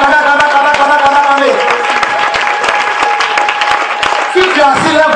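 A prayer-vigil congregation applauding and cheering in acclaim of the Lord, dense sustained clapping mixed with crowd voices and background music, loud and close throughout.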